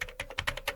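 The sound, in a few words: typing on a computer keyboard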